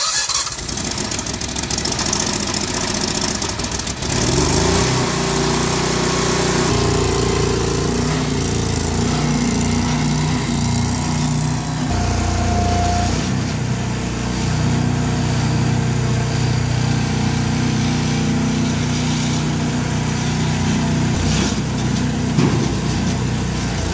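A Bobcat skid steer fitted with a swapped-in Predator small engine turns over and then runs steadily, its loud, buzzy idle droning on close by without a break.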